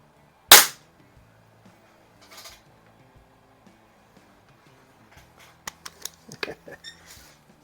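Several sharp snapping shots from a Beeman P17 air pistol fired through a chronograph: one loud crack near the start, then a quicker cluster of fainter pops and clicks toward the end, with low background hum.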